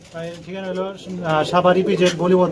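Pigeons coo nearby at a pigeon market in several soft, throaty, warbling phrases, one after another at close range.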